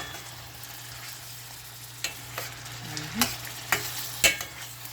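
Cucumber, tomatoes and saltfish being stirred together in a pan for a Jamaican-style breakfast: a quiet, low simmering hiss with a few distinct utensil scrapes and clinks growing more frequent toward the end.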